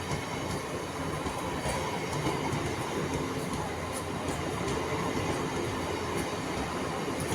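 A local train on the Kalyani line in West Bengal runs steadily, its wheels rumbling and rattling over the tracks in a continuous, fairly loud drone with no voices.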